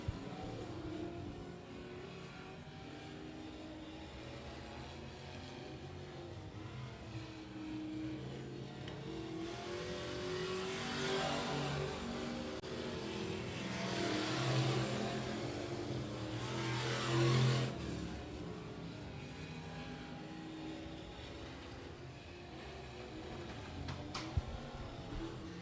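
Race cars lap Hunt County Raceway, engines droning and swelling as the field passes by several times, distant and steady, without clear talk over them.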